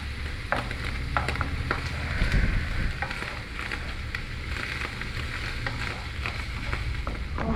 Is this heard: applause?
no